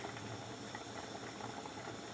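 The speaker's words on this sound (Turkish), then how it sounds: "Gördüğünüz gibi bir güzel kaynıyor arkadaşlar yemeğim." Steady bubbling of a chickpea and meat stew boiling in a pot, a continuous close simmering hiss with soft popping, no voices.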